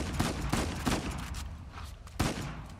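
A machine gun pistol fires in the video game Uncharted: The Lost Legacy, with several sharp bursts of rapid shots scattered irregularly across the moment, including a final loud burst near the end.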